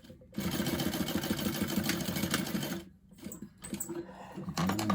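A sewing machine runs steadily while top stitching a seam on a fabric bag, a close, even mechanical whirr that stops briefly near the end before starting again.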